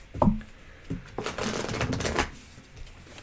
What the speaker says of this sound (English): I'll shuffle these and give these back.